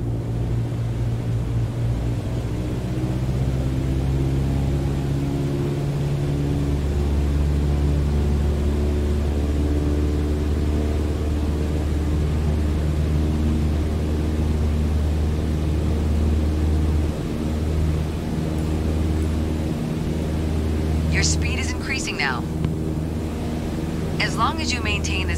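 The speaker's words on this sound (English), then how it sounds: "let's throttle back up to 2400 RPM" A piston aircraft engine in Microsoft Flight Simulator, throttled up to 2400 RPM, gives a steady, loud droning hum with layered tones that shift slightly early on, then hold constant.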